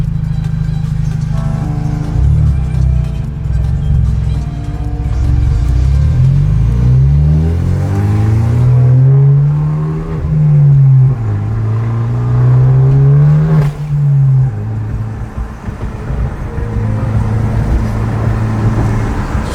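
Hyundai Genesis driving on the road, its engine droning loud and close from inside and rising and falling in pitch as it accelerates and shifts, with steady road noise and no talking.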